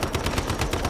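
Rapid gunfire from the video game Once Human, a string of sharp evenly spaced shots about ten in one second, loud and close with no talk.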